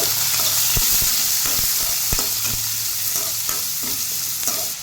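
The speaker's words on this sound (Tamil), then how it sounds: "பூண்டு வதங்கிருச்சு, வெங்காயம் போட்டுக்கலாம்." Garlic and onion sizzle in oil in a pan for a dried fish curry, a close, steady frying hiss broken by repeated sharp clicks and scrapes of a stirring spoon against the pan.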